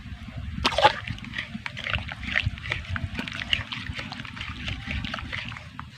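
Tomato and potato curry with water and mustard paste being stirred in a pot, wet sloshing and spoon scraping in irregular strokes, close and moderately loud, no voices.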